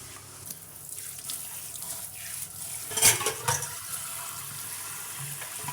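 Hands are rinsed under a running kitchen tap while a tamarind-leaf rasam is being cooked. The water streams steadily at low volume, with a brief louder splash partway through and no speech.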